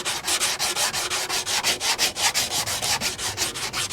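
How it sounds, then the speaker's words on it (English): Body filler over a rust-hole repair on a car panel is sanded flat by hand. Even back-and-forth scraping strokes repeat about four times a second, close and steady, with no talk. "So continue to sand this whole area until it's completely flat."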